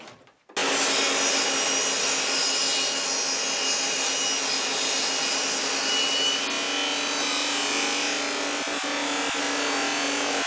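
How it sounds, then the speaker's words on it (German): A table saw rips a very narrow strip, about 3 to 5 mm wide, from a wooden board on a zero-clearance insert with a riving knife. The blade noise starts abruptly and holds as a loud, steady whine, with a couple of small knocks near the end. "Manchmal ist es halt nötig, ganz schmale Streifen zu schneiden."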